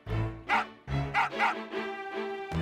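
A dog in the video game Final Fantasy VIII gives a series of several yipping barks in quick succession, fairly close and clear, with short pauses between them and no talk over them.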